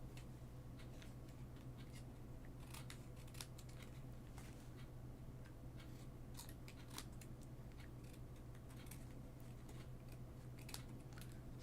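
Sticky scissors snip through paper at a crafting table, producing a series of faint, irregular crisp cuts and clicks over low background hum.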